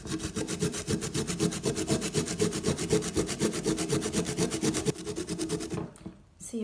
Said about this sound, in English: I'm gonna grate these florets raw.